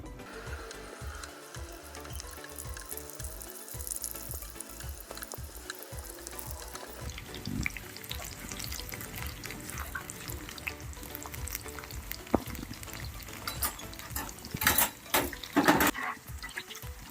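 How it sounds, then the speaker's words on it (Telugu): Poha (flattened rice) pakodas frying in hot oil on medium flame: a continuous crackling sizzle with busier bubbling and sharper pops toward the end, close and fairly quiet, with no talking. "ఆయిల్ అయితే వేడెక్కిపోయింది పకోడీలు అయితే వేసుకుందాం"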